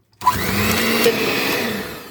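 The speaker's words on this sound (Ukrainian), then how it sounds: "І зараз будемо збивати погружним блендером зіб'ємо білки бізе" An immersion blender whirs steadily for about two seconds, a high motor whine with slight pitch wobble as it whips egg whites for meringue.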